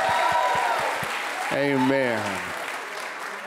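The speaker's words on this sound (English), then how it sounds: "Let's give them a big hand clap." Church congregation at a revival service claps in a dense, steady applause through the clip, while a voice speaks briefly over it midway.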